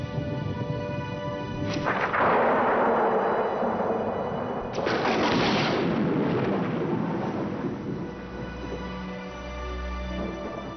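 Thunder rolling over the African savanna near the Zambezi River ahead of rain, two long deep rumbling peals that swell and fade, distant but powerful, with no voices.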